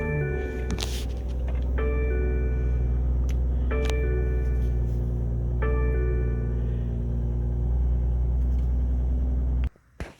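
A 2020 BMW M340i sDrive starts up: a steady low engine rumble runs throughout, with a brief clatter near the start, and it cuts off abruptly just before the end.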